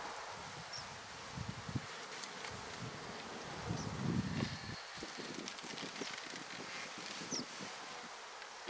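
Honey bees buzz softly around an open topbar hive during an early spring inspection, a faint continuous hum with occasional louder passes near the microphone and light rustling, no talk.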